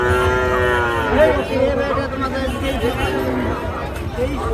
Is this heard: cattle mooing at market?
yes